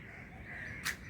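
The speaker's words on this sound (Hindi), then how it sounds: "अब भी आवाज़ आ रही है आपको कौवे की" A single crow caws once near the end of the clip, a short, fairly loud call over a steady background hum at a home during stormy weather, with no talking.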